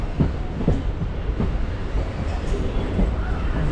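A MEMU express train entering Coimbatore Junction rolls along with a steady rumble and rhythmic wheel clatter, close and continuous.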